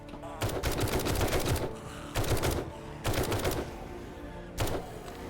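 Machine gun fire in 7 Days to Die: four loud rapid-fire bursts of about half a second to a second each, separated by short pauses, over low game ambience.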